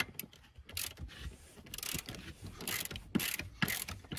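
Ratcheting wrench tightening the rear seat bolts on a Toyota Tundra during a seat jacker install, heard as close, quick clicking pawl bursts with short pauses between strokes.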